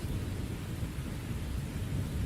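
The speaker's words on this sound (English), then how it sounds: "you notice it started to rain and there's a bit of a thunderstorm going on." Heavy thunderstorm with rain playing as ambience in a tabletop role-playing session, a dense, loud, steady wash of rainfall with deep low rumbling underneath, continuous and unbroken with no talk.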